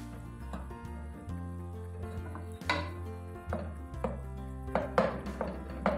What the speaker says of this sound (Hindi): और इसको अब मैं मिक्स करूँगी।